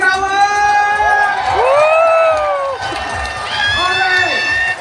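A crowd at a live Filipino gathering shouts and cheers loudly and continuously, with sustained high whoops and rising, falling yells from many voices close by.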